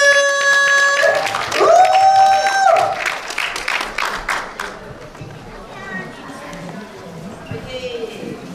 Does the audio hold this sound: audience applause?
yes